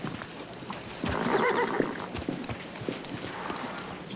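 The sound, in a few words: horse neighing and hooves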